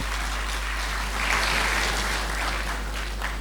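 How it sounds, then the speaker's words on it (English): Applause fills a plenary session of the Lagos State House of Assembly, a steady, dense wash of many hands clapping at moderate distance over a low electrical hum, with no talk. "I think Lagos deserves a round of applause."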